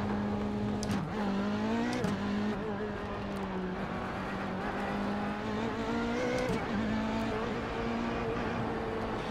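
A race car in the iRacing sim pulls away from a race start, its engine droning steadily and rising in pitch through gear changes, loud and close throughout with no talking.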